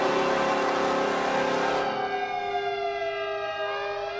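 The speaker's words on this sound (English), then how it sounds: "They have a siren as well." A loud, sustained hockey goal siren from the Buffalo Sabres' 1999 playoffs wails continuously, its steady tone gliding slightly lower as it fades toward the end.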